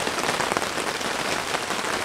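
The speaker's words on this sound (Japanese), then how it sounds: "すごい、急にすごい雨降ってきたな。" Heavy rain pours steadily during a thunderstorm at an auto campsite in Nose, Osaka, a dense, even hiss of drops drumming on surfaces close by, with no voices and no pauses.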